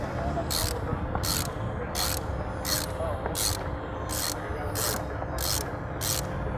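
A socket ratchet on a 32 mm socket loosens the oil filter housing on a VW MK7 Golf R, clicking in a steady rhythm of about ten even strokes, close up over a low background hum.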